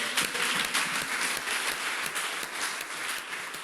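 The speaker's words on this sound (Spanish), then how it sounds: "Dele un fuerte aplauso al Señor" Congregation at a church service applauding together, a steady dense wash of clapping that holds fairly loud and even throughout.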